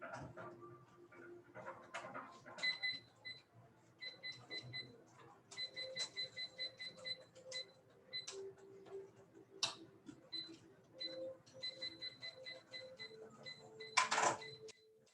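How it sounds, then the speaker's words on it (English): A classroom timer on the board makes steady ticking and repeated high electronic beeps in short bursts, with occasional voices and room noise around it and a louder clatter near the end. "Timer on the board"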